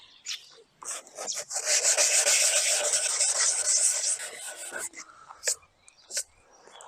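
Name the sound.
sanding car mirror paint edges with 240 grit sandpaper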